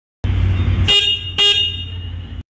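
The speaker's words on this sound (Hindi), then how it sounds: "एक बार आप इसके हॉर्न की आवाज़ सुन लो" The single horn of a Bajaj Pulsar N160 motorcycle honks close by in two bursts, the second starting before the first fully fades, then stops abruptly.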